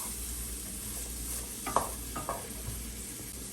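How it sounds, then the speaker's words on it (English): Frying food with garlic paste and pepper is stirred in a pan, a soft continuous sizzle broken by a few quick scraping stir strokes near the middle. "Give it a stir."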